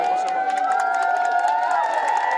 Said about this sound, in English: The crowd loving the reunion, applause and cheers erupting